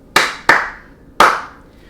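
Three sharp, close hand claps in a rhythmic pattern for a Paueru mashup dance section, two quick ones and then a third after a pause, each ringing briefly.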